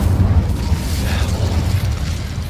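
Incendio fire spell cast in the Hogwarts Legacy video game: a loud low rumbling whoosh of flame with a bassy burst at the start, sustained for a couple of seconds with no talk.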